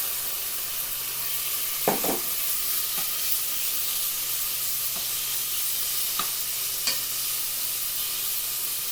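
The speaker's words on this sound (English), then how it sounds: "I'm going to put the meat in now. I'm not sure if it's going to sizzle." Lamb pieces sizzle in a hot pan for a tagine, a steady close frying hiss broken by a few soft stirring knocks, with no talking.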